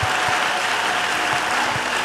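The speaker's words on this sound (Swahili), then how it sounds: "Piga Yesu makofi" A church congregation applauds during a testimony service at RGCM Goba, giving dense, steady clapping that fills the whole moment with no break.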